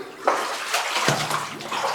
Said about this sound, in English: Glad we brought the sandals to cross the creek today